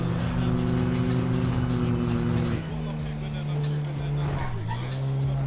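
Dog barking in Grand Theft Auto, a few yips and barks over steady car engine hum, with someone talking over the game sounds.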